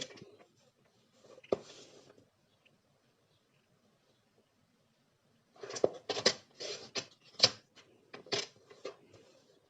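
Card for a greeting card being cut, heard as a brief burst of quiet snipping and crisp ticks, then a pause and a longer run of sharp clicking cuts and paper rustle close by.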